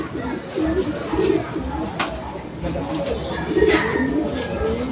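Racing pigeons in a loft coo in low, repeated throaty phrases, some near and some farther off, over a busy background of wing shuffles and faint noise.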